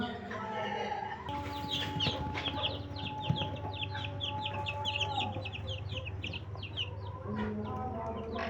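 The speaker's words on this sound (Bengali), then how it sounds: "আর এগুলো সব হচ্ছে লাইট ব্রাহ্মা আর বাব ব্রাহ্মা" Light Brahma and Buff Brahma chickens, with their chicks, cheep and cluck in a rapid stream of high peeps, joined by longer steady tones, over a low background hum with faint talk.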